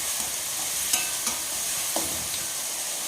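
Green chillies for a carrot and coconut fry sizzle gently in a pan on a low flame, a soft continuous hiss broken by occasional light scrapes of a stirring spoon.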